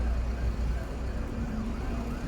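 Ambulance sirens wail in a Czech city street, the rising and falling tones faint and distant beneath steady traffic rumble.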